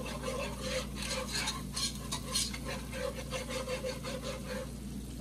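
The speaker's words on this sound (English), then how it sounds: "I ain't scraping my pan anymore." Utensil scraping and stirring a pan while chicken pot pie filling browns with flour, a quiet rhythmic rasping with repeated strokes over a soft sizzle, close up and without talk.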